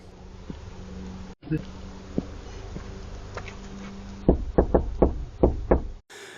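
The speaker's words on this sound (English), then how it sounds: "when you've got your ear right next to the window where he's knocking, it sounded very loud indeed" Sharp knuckle knocks on a van window at night, a few scattered taps early on, then a loud cluster of five or six quick raps near the end, heard close against a low background hum.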